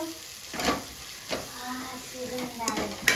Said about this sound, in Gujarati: હવે મિત્રો જુઓ આપણે પેલો મસાલો વધ્યો હતો ને ચણાનો લોટ વાળો એ નાખી દઈએ.